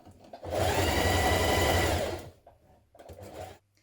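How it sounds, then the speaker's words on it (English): A sewing machine stitches a sleeve into a dress in one steady, loud run of about a second and a half, then drops to a few softer, shorter bursts of running. "Now sew your sleeve in position."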